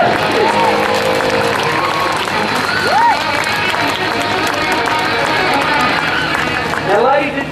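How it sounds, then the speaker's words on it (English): A street festival crowd at a buskers show claps and cheers steadily, a dense wash of applause with whoops and shouts rising above it, while voices call out through the noise. "let's give both of these men a really big clap and a really big cheer"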